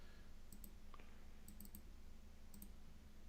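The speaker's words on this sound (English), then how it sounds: "Hopefully you guys enjoy the sound of clicking." Sharp, faint mouse or key clicks come in small pairs and clusters over quiet room hiss, separated by short pauses.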